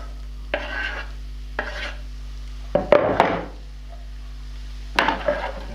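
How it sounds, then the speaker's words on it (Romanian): Chopped onion goes into hot oil in a small frying pan, giving soft sizzling along with a few scraping stirs and knocks of a utensil against the pan, close and fairly quiet. "Uleiul s-a încins, adăugăm ceapa"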